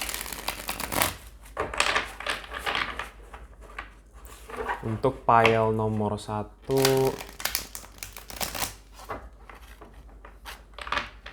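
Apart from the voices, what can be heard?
shuffling tarot cards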